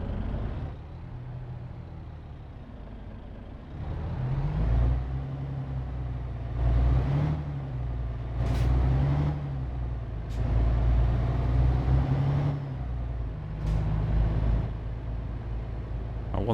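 A heavy truck in Euro Truck Simulator 2 pulls away in gear, its diesel engine rumbling and revving up through several surges, with sharp air brake hisses and clicks along the way.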